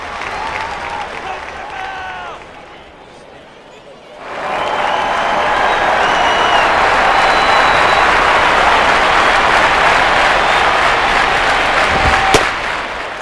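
Baseball stadium crowd in MLB 09: The Show, Cardinals at Marlins, a loud sustained crowd roar that dips briefly then swells back and holds, with a sharp crack near the end and a commentator speaking early on.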